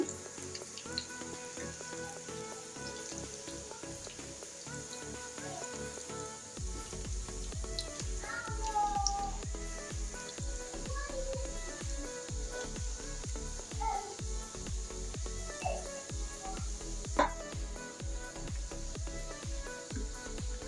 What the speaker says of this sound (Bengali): আমি এরকম গোল্ডেন কালার করে সবগুলো ভেজে নিচ্ছি।